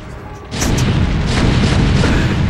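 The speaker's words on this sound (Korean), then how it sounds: "지금 이 탱크가 럴커를 쏘고 있는 이 소리" Siege tank fire striking a lurker during a StarCraft match, heard as a sudden heavy boom at about half a second that then settles into a sustained dense rumble of explosive impacts to the end.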